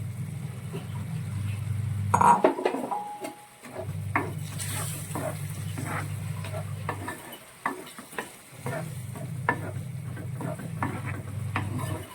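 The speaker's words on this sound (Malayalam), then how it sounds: "പാവയ്ക്കയും കൂടി ഇട്ട് നന്നായിട്ട് നമുക്കൊന്ന് മിക്സ് ചെയ്യാം." Bitter gourd pickle mixed in a pan, with repeated scraping stir strokes over a low sizzle that drops out briefly twice, close and moderately loud.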